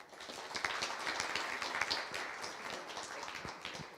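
An audience at a festival talk applauds warmly, a steady dense patter of many hands that stays fairly quiet and even for about four seconds, with no one speaking over it.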